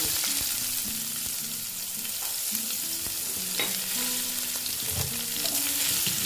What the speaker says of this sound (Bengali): পেঁয়াজগুলো ভালো মতন ভেজে নিচ্ছি ব্রাউন কালার করে ভেজে নেব